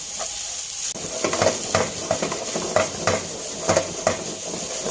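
Pork fried rice with fresh chilies and pickled mustard greens is stir-fried over high heat in a pan, a loud continuous sizzle broken by repeated scraping and clanking strokes of the spatula against the metal, close up and with no talking.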